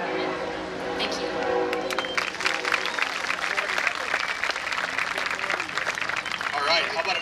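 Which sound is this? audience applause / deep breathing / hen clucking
audience applause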